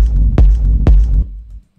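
Two deep, booming techno kick drums with a low rumble, made in FL Studio, hit about half a second apart over a steady sub-bass drone that fades out at the end.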